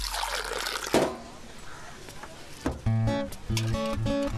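Tea poured into a glass at a roadside tea stall, starting as a soft liquid trickle and turning into a brighter, louder filling stream that rises in pitch near the end, with background music playing.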